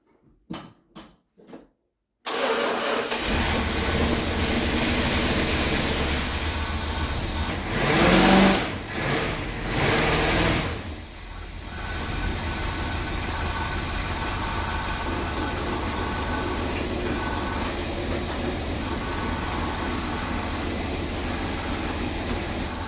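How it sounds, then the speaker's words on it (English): A car with a Mopar 727 automatic transmission, raised fully off the ground, cranks after a few brief clicks and catches, then settles into a loud, steady idle with a short surge in revs partway through. "Let's just give this a start and get the fluid around in the transmission."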